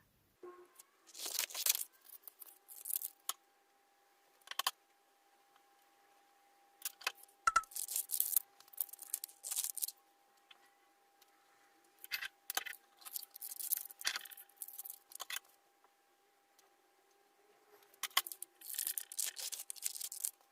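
Scissors cut through wax paper in several separate bursts of crisp snipping and rustling, close and quiet, with short silent gaps between the cuts and no talk.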